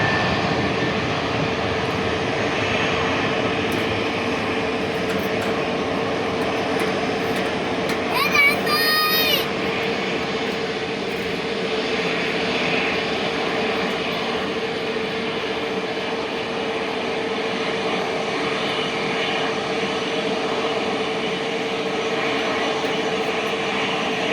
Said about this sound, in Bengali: এটা ল্যান্ড করতেছে ইন্ডিগো এক এক করে আসতেছে